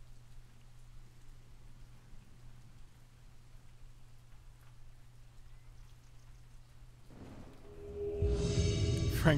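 Rain ambience from the Rainy Mood app fades in during the last couple of seconds as a dense, steady hiss of falling rain, following a long stretch of quiet low hum.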